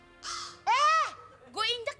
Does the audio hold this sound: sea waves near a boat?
no